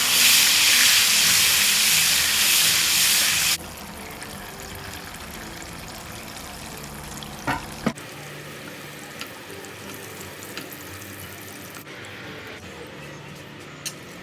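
Boiled eggs frying in a pan of hot cooking oil with a teaspoon of turmeric, opening with a loud, bright hiss that drops after a few seconds to a steady softer sizzle with occasional small pops.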